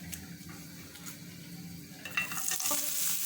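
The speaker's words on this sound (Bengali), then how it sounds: "দিয়ে দিচ্ছি একটি পেঁয়াজ কুচি।" Chopped onion sizzles in a little oil in a pan on the stove, a steady frying hiss. A brighter, louder burst of crackle rises toward the end, with faint clinks of a utensil against the pan.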